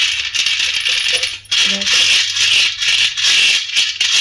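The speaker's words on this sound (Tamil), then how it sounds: "சவுண்டு கேட்குதா? உள்ளே வந்து சலங்கை இருக்குது." Small bells rattle and jingle inside an antique Chettinad brass basket as it is shaken, giving a loud, continuous metallic clatter with brief pauses.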